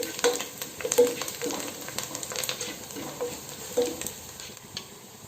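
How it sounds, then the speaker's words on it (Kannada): Onions sizzle gently in a pan, a continuous low crackle broken by a few stirring scrapes and taps, with no talking. "ಈ ಈರುಳ್ಳಿ ಸ್ವಲ್ಪ ಕೆಂಪಗಾಗುವ ತನಕ ಹುರ್ಕೊಂಡ್ರೆ ಸಾಕು"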